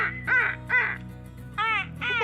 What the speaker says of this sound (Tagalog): May ibon.